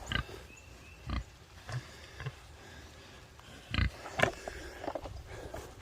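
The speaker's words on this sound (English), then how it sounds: "I just want to show you the pigs" Farm pigs grunt and sniff in short, separate bursts close to the recorder, with quiet pauses between them and no talking.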